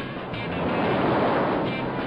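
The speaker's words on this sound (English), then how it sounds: "Giant waves are blowing in." Giant ocean surf crashes and rolls in a steady, loud roar of broadband noise that swells slightly and then holds, with no voices over it.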